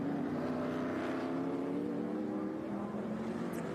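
Race car engine at Circuit of the Americas during an SVRA Group 10 feature race, a steady sustained engine drone with layered harmonics, fairly distant and continuous, slightly swelling as the car comes toward the trackside position.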